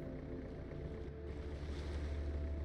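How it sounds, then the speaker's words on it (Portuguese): Water sloshing and rushing steadily, like waves against a hull, with a low wind-like rumble throughout. "Barulho da água"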